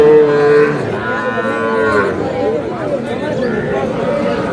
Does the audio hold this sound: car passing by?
no